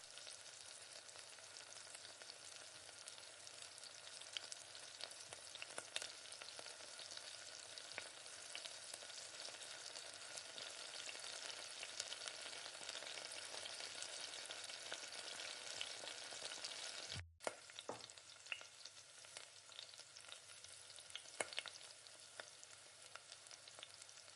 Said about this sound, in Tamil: தக்காளி வதங்கலைன்னா அப்படி நல்லா கரண்டியை வச்சு மசிச்சு விட்டு இந்த மாதிரி வதக்கி